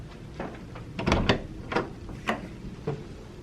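A door opens while something behind it blocks it, giving several muffled wooden knocks and thumps that bump and scrape, spaced irregularly, fairly close, with no talking.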